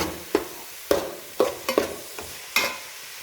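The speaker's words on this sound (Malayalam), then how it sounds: "നല്ല ഇളക്കി കൊടുക്കുന്നു." Sliced tomatoes frying in a pan for Kerala mutton fry are stirred with a spoon, giving about seven sharp scraping strokes over a soft sizzle, close and distinct, with no talking.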